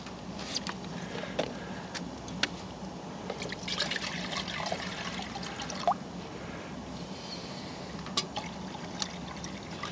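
Water trickles and drips into a pot on a frosty day inside a lavvu hot tent, a soft steady pouring sound with scattered small splashes and clinks, fairly close and quiet, with no speech.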